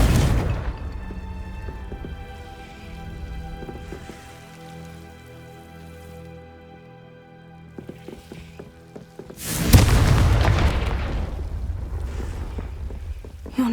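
Confringo fire-blast spell from Hogwarts Legacy bursting in a loud, close explosive whoosh near the end, following quieter magical hums and crackles.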